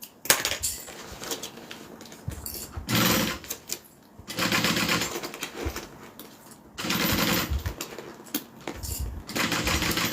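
A sewing machine top stitching a bag runs in several close, rapid mechanical bursts of whirring and clatter, stopping and starting with brief pauses between runs.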